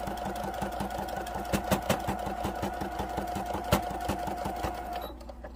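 Sewing machine stitching fabric for a bumble bee gnome craft, running steadily with rapid, even needle clatter and a few louder knocks, close by, before stopping near the end.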